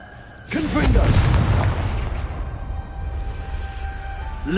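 A Confringo fire spell bursts in Hogwarts Legacy, a sudden deep boom that rolls into a long fading rumble inside an echoing maze, with faint voices beneath.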